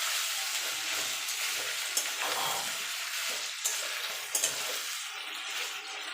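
Potatoes and pointed gourd fry with ginger paste in a pan, a steady hissing sizzle with occasional scrapes and taps of a spoon as they are stirred together.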